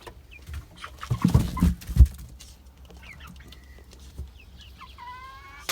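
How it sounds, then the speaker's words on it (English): Chickens in a coop making soft clucks and a few higher calls, with a loud knock or thump early on and a brief drawn-out squawk near the end. "And I hear some birds."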